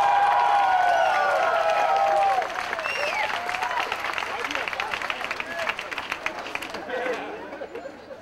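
A crowd at a university commencement ceremony applauds graduates loudly with cheers and chatter, the clapping thinning out after a couple of seconds into scattered claps and murmuring voices.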